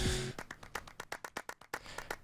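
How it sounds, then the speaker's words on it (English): Sampled hand claps from Splice in a music track come as a steady, evenly spaced run of sharp, crisp claps, about a dozen in quick rhythm, following a brief low synth tone at the start. "just some simple claps that I got off Splice again"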